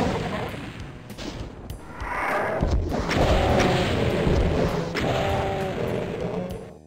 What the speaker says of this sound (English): We're gonna stick with the rocket launcher.